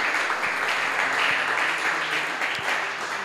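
A church congregation applauds during a French-language service, dense and steady clapping from many hands filling the room at close range for a few seconds.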